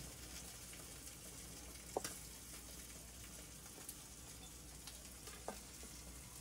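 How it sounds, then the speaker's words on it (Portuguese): Linguiça sausage fries in a Neoflam pan with a soft, even sizzle at low level, broken by a couple of faint clinks, and no one talks. "a linguiça aqui tá quase pronta já. Vou deixar só mais um pouquinho para dourar esse ladinho aqui."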